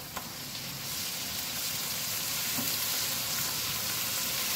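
Browned onions sizzle steadily in a pan with garlic and ginger for a Punjabi koyla karahi, a continuous hiss and crackle that swells slightly as the ingredients go in.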